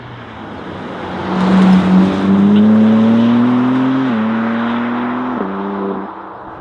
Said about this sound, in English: From the second you fire it up, it sounds different, much thanks to that titanium rear box